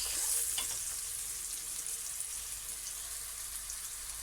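Onion sautéing in oil in a pan for an Egyptian meatless moussaka, a steady soft sizzle and crackle held close, a little brighter at the start, with no voices.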